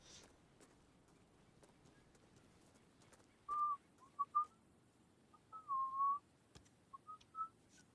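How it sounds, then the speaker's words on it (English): Someone whistles a short broken tune while playing Hitman, quiet and intermittent, with soft clip-clop footsteps faintly in the background. "I'm whistling while I work."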